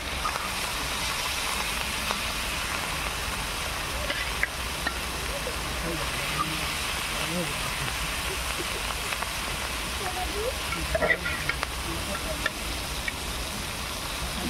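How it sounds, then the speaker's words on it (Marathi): Prawns fry on a tawa set over an open wood fire, giving a steady, dense sizzle with faint crackle that runs unbroken at moderate level, with no talk heard. "चाऱ्या बाजूनी आपली आग लागते ना तव्याला, तशी कोलंबी पटकन आपली फ्राय होते"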